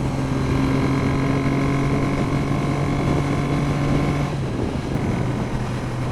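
A Triumph 900 CRK motorcycle engine drones steadily while riding, a constant hum with strong wind rush over the microphone, easing off slightly near the end.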